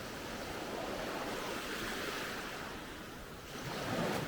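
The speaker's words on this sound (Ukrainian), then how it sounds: "То оце центральний пляж, він виглядає саме отак." Steady broadband surf of waves washing onto a sandy central beach on volcanic Camiguin island, continuous and fairly loud with a slight swell near the end, some wind noise, no voices.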